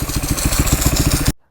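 A motorbike engine idling up close in Sotang, Solukhumbu, with a fast even putter for about a second before it cuts off abruptly into silence.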